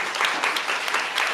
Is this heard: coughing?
no